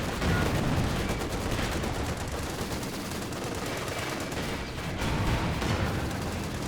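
Machine gun fire rattles continuously through a World War II strategy game battle, dense and loud, with overlapping bursts of gunfire and distant explosions forming a steady wall of combat noise.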